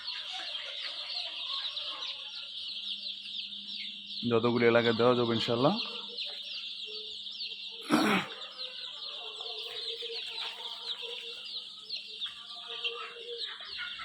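Twelve- to thirteen-day-old chicks, red and white Egyptian Fayoumi and local breed, keep up a constant high peeping chorus nearby, while someone speaks briefly and a short cough or rustle cuts in.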